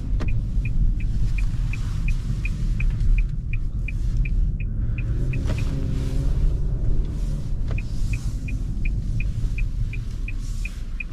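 A 2023 Nissan Altima 2.0 SR Turbo rolls through a U-turn with a low, steady engine and road rumble from inside the cabin, a regular ticking indicator clicking along through most of the turn.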